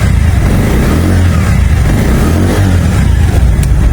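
A 2023 Bajaj Pulsar motorcycle engine runs close by with a steady, smooth low rumble that holds level throughout, with no one talking.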